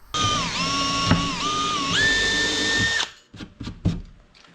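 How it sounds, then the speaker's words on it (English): A power drill bores through extruded aluminum for a 2024 Tacoma rear seat delete, a loud whining motor tone that dips and rises in pitch for about three seconds, then stops, followed by a few short clunks and rattles. "drill directly through the extruded aluminum"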